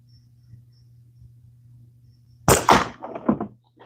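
After a quiet stretch with a low hum underneath, a slingshot shot strikes a frog target with a loud, sharp crack, then a quick series of rattling, clattering knocks that die away.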